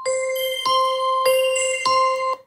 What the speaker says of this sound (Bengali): game show সাসপেন্সেস